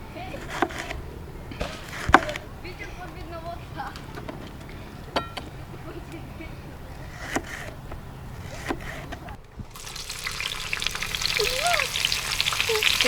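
Steady sizzling and crackling of vegetables and sliced peppers frying on a hot saj griddle outdoors, with occasional stirring clatter and a voice speaking over it.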